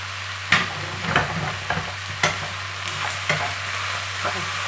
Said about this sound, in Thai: แล้วก็ค่อยๆคั่วเข้าไปนะคะเราคั่วเข้าไปให้เส้นเขาแห้งเลยนะคะ